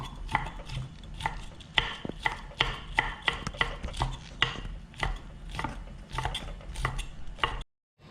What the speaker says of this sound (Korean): 목이버섯도 얇게 채를 치야지.